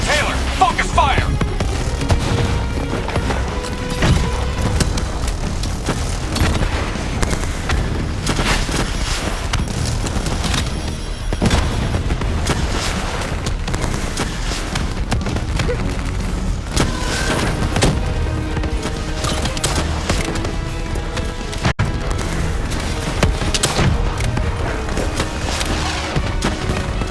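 A Call of Duty Black Ops 3 firefight: dense bursts of automatic gunfire mixed with heavy booming explosions, loud and continuous for nearly half a minute, with shouted voices underneath at times.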